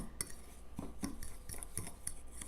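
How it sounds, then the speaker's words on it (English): A spoon stirs sugar and two teaspoons of cinnamon together in a bowl, quiet irregular clinks and scrapes of utensil against the dish, several light taps spread across a few seconds, with no voices. "we are just going to stir that all together"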